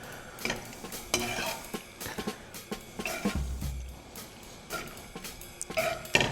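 Pasta stirred and tossed in an orange sauce in a pan makes a wet, slushy squelching with a faint sizzle and occasional clinks of a utensil against the pan, close up and continuous.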